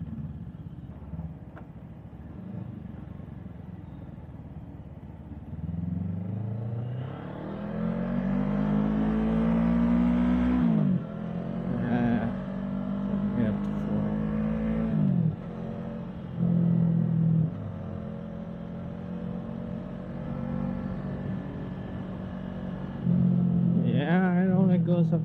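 An FKM Falcon X400 motorcycle engine rumbles and revs while riding, pitch rising and falling through repeated accelerations in first gear and gear changes, loud and close, with no speech.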